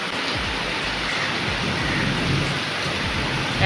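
Heavy rain pours steadily with low rumbles of thunder rolling underneath, loud and continuous throughout.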